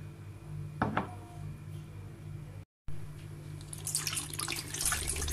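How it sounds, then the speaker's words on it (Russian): Aquafaba, the cooking water from chickpeas, poured into a bowl for vegan pancake batter, a quiet, steady liquid trickle and splash that swells toward the end, with a brief knock early on. "вливаем сюда аквафабу."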